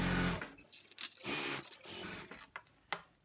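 A sewing machine stitches a fleece hoodie's side seam from the cuff, running in several short whirring bursts with brief pauses between, close and clear.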